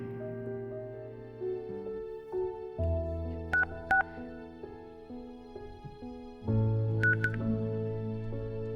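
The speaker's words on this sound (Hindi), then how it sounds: "एक बार फोन करके देखूं क्या?" Telephone keypad dialing tones sound in short quick pairs, one cluster near the middle and another near the end, over a moderately loud background of sustained musical tones.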